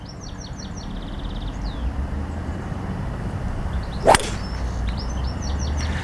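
One crisp crack of a left-handed AT705 hybrid golf club striking a ball outdoors, a single sharp impact over steady wind-like background noise with birds chirping in the distance.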